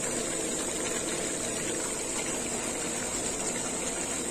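Water from a rinsed bowl is poured into meat being cooked, giving a steady, continuous rushing gush at close range that holds evenly for several seconds with no talking.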